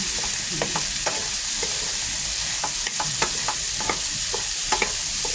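Pakbet vegetables stir-fried in a pan with long beans, malunggay and sweet potato, a steady close sizzle broken by repeated scraping and clacking stirs, no voices.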